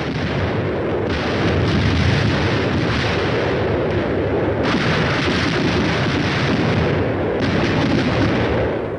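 Air bursts from a battalion of 105mm howitzers merge into a dense, loud, continuous rumble of overlapping blasts that swells and dips without a break.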